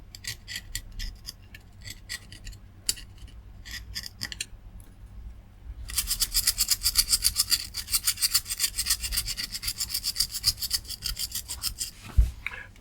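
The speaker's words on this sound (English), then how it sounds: "I'm not scraping so hard to scratch the PCB, I'm just cleaning it off." Scraping dried glue and corrosion off a circuit board near a smoothing capacitor, scratchy rasping strokes in short irregular bursts that turn into a busier, louder run of rapid scrapes, ending with a small knock.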